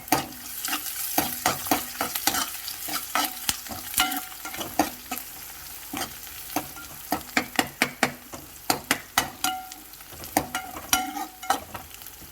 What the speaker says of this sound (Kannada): ಇವಾಗ ಬೆಳ್ಳುಳ್ಳಿನೂ ಸಹ ಆ್ಯಡ್ ಮಾಡ್ತಾ ಇದ್ದೀನಿ.